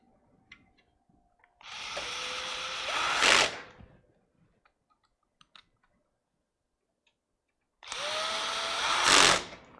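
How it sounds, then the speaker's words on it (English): Two bursts of a whirring electric screwdriver during computer repair, each ending in a harsh ratcheting buzz as the clutch slips, separated by near silence. "that sound you're hearing is the clutch kicking in"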